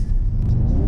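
A 2019 Mercedes-Benz AMG GT 53 accelerates hard, a close, deep engine rumble swelling and rising in pitch over a single second, heard from inside the car.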